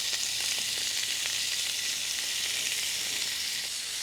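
Calamari fries in a pan with garlic, giving a steady, dense sizzle that holds loud and even throughout with no voices.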